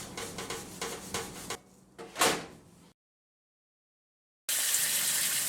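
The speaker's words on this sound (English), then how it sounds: "Place all the grates and burner covers into a sink of soapy water" Water gushes steadily into a kitchen sink being filled with soapy water to soak gas stovetop grates and burner covers, loud and close, following some clattering and a short silence.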